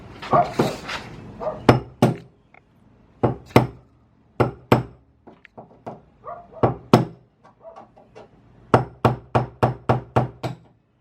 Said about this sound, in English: take like a socket and just thunk thunk thunk thunk thunk